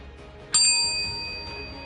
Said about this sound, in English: make sure to ring the old bell